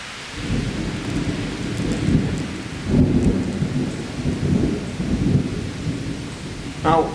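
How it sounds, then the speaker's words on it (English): Thunderstorm with steady heavy rain hissing throughout and low rolling thunder rumbling in repeated swells, fairly close and continuous, with no clear talk. "I'd rather have the thunderstorm"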